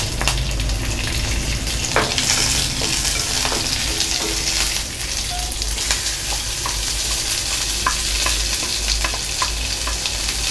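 Onions and curry leaves fry in a hot pan for a Tamil pearl millet paniyaram, making a steady close sizzle with occasional sharp pops and faint stirring scrapes throughout.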